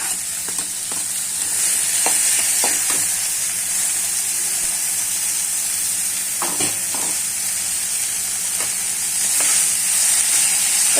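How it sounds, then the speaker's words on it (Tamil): Curry leaves sizzle in hot oil in a pan with tomato, a steady close frying hiss broken by scattered clicks and scrapes of stirring, with no talking. "இப்ப கருவேப்பிலை போட்டுக்கலாம்."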